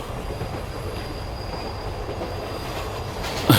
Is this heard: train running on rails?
yes